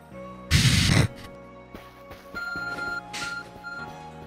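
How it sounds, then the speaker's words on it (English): Arc Phone in Pokemon Legends: Arceus chiming with a short sequence of bright electronic beeps and tones, preceded by a brief burst of noisy static, heard clearly without talk. "Your arc phone is beeping."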